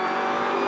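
Close, loud engine whine from a race car accelerating at Grattan Raceway, a brief burst of dense, buzzing revs.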